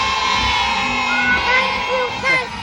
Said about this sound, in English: the crowd isn't going to quiet down for him, as you can see